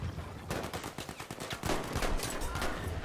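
Rapid, loud gunshots from a revolver in Battlefield V, a quick series of sharp cracks layered over continuous battle noise, with no talk.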